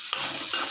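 Turmeric powder being stirred into soft cooked tomatoes in a pan for a horse gram curry, with a steady sizzle under two short scraping strokes of a spoon.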